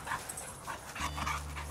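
A pet dog named Julius whimpers softly and gives low, muffled yips at close range, brief and quiet in a calm indoor setting.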